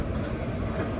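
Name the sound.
Sethu Express train arriving at Chennai Egmore station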